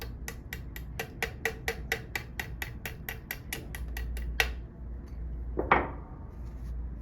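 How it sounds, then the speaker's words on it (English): Rapid, regular metallic taps from a small hammer driving a pin through a Winchester 70 rifle action, about a dozen close together, then a couple of heavier knocks and a final ringing strike. "you can use a small hammer, tap that through"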